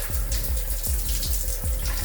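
Water trickling from a shower tap with weak pressure, a steady hiss of flow with faint low rhythmic pulsing throughout.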